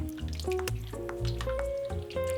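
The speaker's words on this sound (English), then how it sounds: "Stir the ice bath with the spinach, ensuring that all the leaves are cold." Spinach stirred by hand in an ice bath of cold water, with close, wet dripping and sloshing sounds running throughout, alongside a steady low tone and faint tonal hum in the background.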